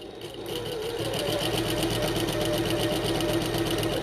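A sewing machine back stitching a seam on a bucket tote runs in a steady, close, rapid mechanical chatter throughout, with no voices.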